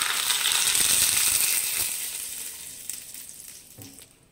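Curry leaves drop into hot oil already tempering mustard seeds, urad dal, chana dal and a dried red chilli for beetroot chutney, crackling loudly at first, then the sizzle fades to a quieter spatter.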